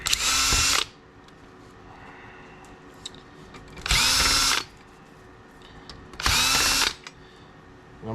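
A power drill backs screws out of a flat screen monitor in three loud, close whirring bursts, each under a second long, with quiet pauses between them.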